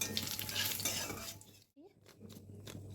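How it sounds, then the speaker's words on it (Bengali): Panch phoron and dried chilli crackle in hot oil with a loud, dense sizzle, then a brief near silence, then a lighter spitting sizzle that resumes after the tempering is poured. "এই পাঁচফোড়ন আর শুকনো লঙ্কাটা খুব ভালো করে তেলের মধ্যে ফুটিয়ে এখানে ঢেলে দেব"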